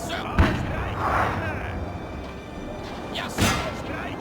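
Cannon artillery fire in Napoleon: Total War on the Austria campaign: two loud, sharp booms about three seconds apart, each with a short rumbling tail, over a steady battlefield din.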